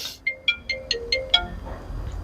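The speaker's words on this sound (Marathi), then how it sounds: "परत फोन आला वाटतं बाई" A phone ringtone rings indoors in a family home: a quick series of six bright, evenly spaced electronic chimes that stop partway through, followed by quiet room tone.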